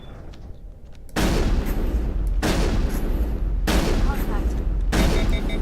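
Gunfire in the sci-fi game Mass Effect erupts into heavy, continuous bursts of loud shooting that surge in waves after a quieter opening, while a voice calls out briefly.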